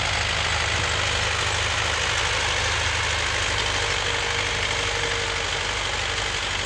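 A heavy YuMZ tractor engine runs steadily close by during autumn plowing, a loud continuous rumble with a knocking vibration throughout.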